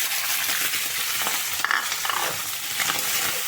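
Steady sizzling of chicken meat frying in a hot pan, with a few stirring scrapes and clicks midway, close and continuous.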